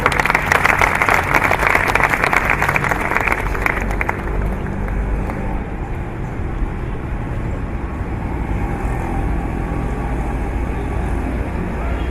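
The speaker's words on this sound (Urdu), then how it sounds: "میں زحمت خطاب دوں گی آپ کی تالیوں میں جناب طلعت حسین صاحب کو" Loud audience applause at a book launch ceremony, dense clapping for the first four seconds, then settling into a steady, softer wash of clapping and room noise for the rest.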